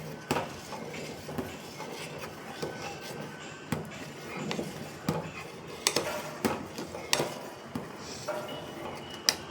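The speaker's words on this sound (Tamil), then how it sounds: "பால் பொங்க போது நான் ஸ்டவ்வை சிம்மில் வச்சுட்டு கலரி கொடுத்துட்டே இருக்கிறேன்" Milk simmering in a pot on a low stove flame for mukkani payasam is stirred steadily, a ladle scraping and clinking against the metal in an irregular rhythm of close, light knocks over a soft bubbling bed.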